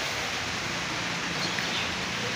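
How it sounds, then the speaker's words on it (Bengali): Light rain begins falling outside a house in a gentle breeze, making a soft, even hiss of drops with no distinct individual hits, steady and somewhat distant throughout. "আর বৃষ্টির ফোঁটা পড়া শুরু।"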